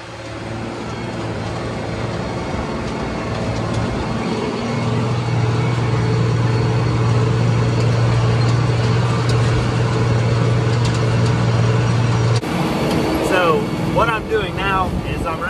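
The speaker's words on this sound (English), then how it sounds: "This is how you turn a 2-wheel drive tractor." A two-wheel drive tractor engine hums and drones steadily as the machine turns in a field, a continuous low mechanical tone that shifts in pitch partway through before a sharper noisy stretch at the end.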